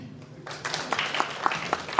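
A conference audience at a leadership and human development talk bursts into applause, a short spatter of clapping that starts abruptly and keeps going to the end.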